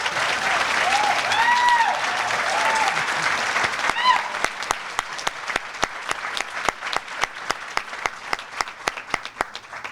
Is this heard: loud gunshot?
no